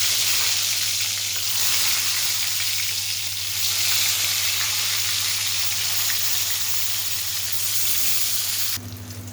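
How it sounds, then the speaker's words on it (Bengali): Eggplant slices fry in hot oil with a continuous, loud crackling sizzle that holds steady for most of the stretch, then drops to a softer sizzle near the end. "বাকি যে বেগুনগুলো আমার আছে এখন এই তেলের ভিতরে আমি সেই বেগুনগুলো ভেজে নেবো"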